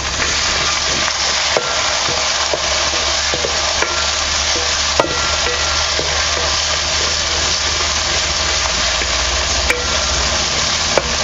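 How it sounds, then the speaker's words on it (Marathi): Tomatoes frying with onion and garlic for a mixed vegetable dish, sizzling steadily as they are stirred in the pan, with sharp scrapes and clicks of the spoon against it. It runs loud and close, with no talk. "कांदा लसूण वगैरे परतलेले आहे. तर आपण ह्यामध्ये ना टोमॅटो घालूया."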